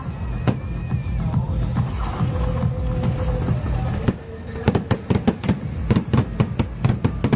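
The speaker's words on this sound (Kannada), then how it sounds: "ಈ ಕ್ರ್ಯಾಕರ್ ಶೋ ಪಟಾಕಿಯನ್ನು ಸಿಡಿಸುವುದರ" A firecracker show bursts at the Malur Maha Shivaratri festival. Sharp, loud cracks come in quick irregular volleys, some overlapping, after a stretch of continuous crowd rumble.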